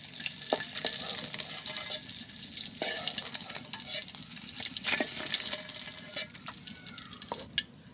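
Egg frying in oil in a wok, a steady crackling sizzle with occasional sharp spatters and utensil clicks, close and fairly quiet throughout.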